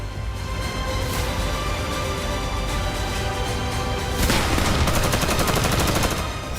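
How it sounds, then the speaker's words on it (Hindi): Celebratory gunfire rings out in the war-ruined city of Bakhmut, a steady crackle of distant shots that swells into a denser, louder burst of rapid automatic fire near the end. "कहीं फायरिंग करके बागमुत पर कब्जे का ऐलान किया गया"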